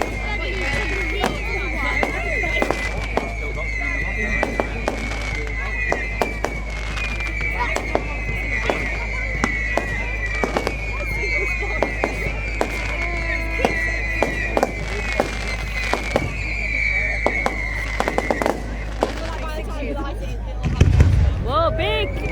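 Bonfire night fireworks in England bang and crackle repeatedly throughout, with sharp reports at irregular intervals and a loud burst near the end, while people talk and exclaim over the display.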